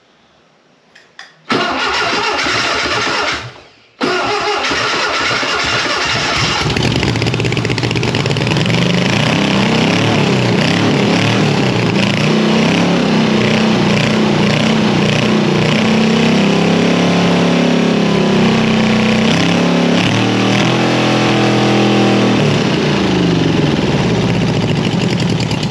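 A Volkswagen 411 engine cranks briefly, catches after a short pause, then settles into a loud, steady idle that runs on close by with no talk.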